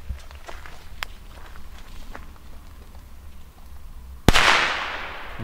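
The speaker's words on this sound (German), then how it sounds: "machen wir weiter mit dem Pyro-Cracker, machen wir auch wieder zwei Stück." Two green-and-white Pyro-Cracker firecrackers set off for New Year's Eve: a sharp, loud bang near the end, followed by a crackling, hissing burst that fades, after quieter outdoor shuffling and small knocks.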